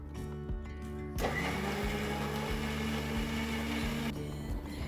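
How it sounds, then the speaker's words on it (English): A blender whirs through roughly chopped watermelon and plenty of mint leaves, a loud steady motor drone kicking in abruptly and running for several seconds before cutting back down. "I have roughly chopped watermelon and added in a blender."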